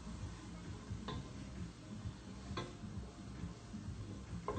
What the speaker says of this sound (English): give them a little bit of a stir.